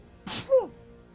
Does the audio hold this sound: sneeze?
yes